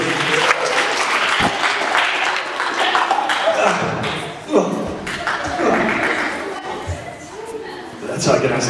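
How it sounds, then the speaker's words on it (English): An audience claps and cheers at a comedy stage show, the noise loud and sustained with a brief dip midway before swelling again, and talk and laughter mixed in. "Well, give a round of applause."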